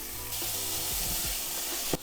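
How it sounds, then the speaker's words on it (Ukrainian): Garlic, onion and carrot fry in a pan over very high heat, giving a steady close sizzle that swells slightly partway through, with a brief louder burst near the end and no talk. "поки смажаться наші овочі"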